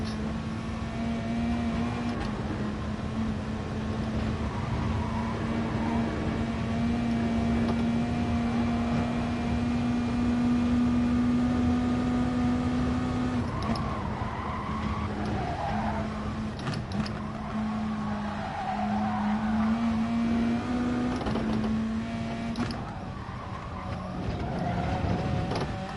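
A Volkswagen Beetle race car in Gran Turismo Sport drones with a steady, buzzy engine note that holds pitch for long stretches, then dips and rises slightly with gear and throttle changes, accompanied by faint tire and track noise.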